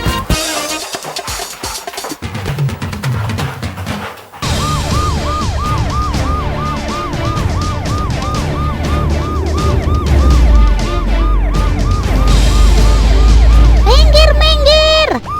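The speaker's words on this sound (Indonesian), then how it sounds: "Minggir! Ada mobil ambulans mau lewat nih." A wailing ambulance siren cycles steadily up and down, loud and close, over heavy road rumble and traffic noise, with a sharper yelp pattern near the end.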